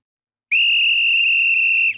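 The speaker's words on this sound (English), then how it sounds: "Blow the whistle" A referee's whistle at a World Cup group-stage football match between Spain and Cape Verde gives one loud, steady, sustained blast of about one and a half seconds, close and alone.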